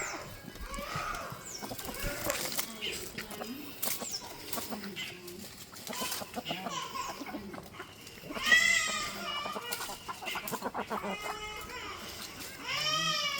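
Female goats bleat repeatedly, close and loud, at a livestock sale, with other animal calls, hoof sounds and scattered voices in the background.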